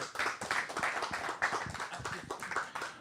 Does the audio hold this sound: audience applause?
yes